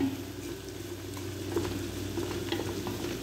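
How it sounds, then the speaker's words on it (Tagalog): Food sautéing in a pan at a home birthday gathering, a low, even sizzle with faint stirring scrapes and occasional soft ticks, heard alone at moderate distance with a steady hum behind it. "Kailangan to ginigisa to ng mga maigi."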